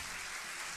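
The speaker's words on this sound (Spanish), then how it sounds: "Un aplauso muy grande" Brief, quiet burst of audience applause at the Konex awards ceremony, an even wash of clapping with no voices over it.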